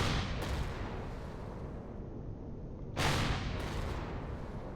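Gunfire from an enemy in the video game Empyrion Galactic Survival: a dense, rumbling barrage of shots with two sharp louder bursts near the start and near the end, steady and close with no talk.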